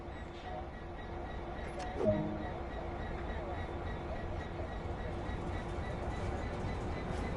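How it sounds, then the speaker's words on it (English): A Great Western Railway train in the Train Sim World video game begins to move under power, a steady low engine rumble and rolling noise with a faint creak or squeal partway through. "Now apply some power and get this train moving."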